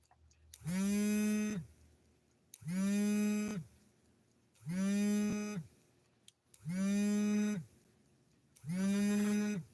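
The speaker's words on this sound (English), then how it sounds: "Somebody's trying to call me while I'm on here." A phone ringtone that sounds like a cow mooing rings for an incoming call: five long, even moos about a second each, separated by regular short pauses, clear and alone.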